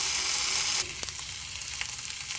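Marinated tandoori-style chicken pieces frying on a high flame, giving a loud steady sizzle that drops abruptly to a quieter crackle with scattered pops.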